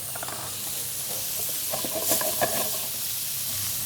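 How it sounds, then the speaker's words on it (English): Shrimp sizzle in hot vegetable oil for a salted shrimp and bitter bean dish, a steady close hiss of frying with faint stirring clicks near the middle. "And then add shrimp."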